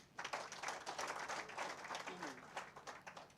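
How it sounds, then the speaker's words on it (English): Scattered clapping from a group of people at an outdoor launch event for a bank and mobile network partnership in Uganda, fairly faint and uneven, with irregular claps rising and falling over a few seconds. "You clap for them."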